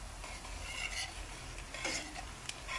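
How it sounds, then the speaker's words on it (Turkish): Onions for a börek filling sauté in a pan, giving a soft continuous sizzle with faint stirring scrapes throughout. "Soğanlarım kavrulmaya başladı."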